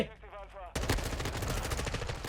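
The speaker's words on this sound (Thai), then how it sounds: "ความดุเดือดของการยิงปืนนี้ผมว่า มันมันเอาเรื่องอยู่นะครับ" Rapid automatic rifle fire, an M4A1, in Call of Duty: Modern Warfare II multiplayer erupts suddenly after a brief quieter moment and continues as dense, loud, continuous shooting to the end.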